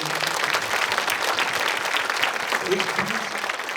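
Continuous applause from a crowd, loud and sustained throughout, with voices talking over the clapping.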